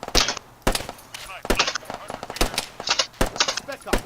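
Arma 3 combat: sharp rifle shots crack in rapid single and burst volleys about every half second to second, some close and some further off, with no talk over them.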